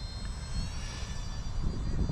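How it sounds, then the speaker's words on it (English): An Esky 150EC mini RC helicopter flying in wind gives a steady, whining motor and rotor buzz with rumbling wind noise underneath, moderately close and continuous. "I am flying the helicopter at high rates"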